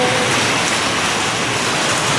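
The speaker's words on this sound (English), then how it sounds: "We'll get back out when the rain stops." Steady, heavy rain falls outdoors after a sudden downpour, a dense continuous hiss with no voices, loud and close throughout.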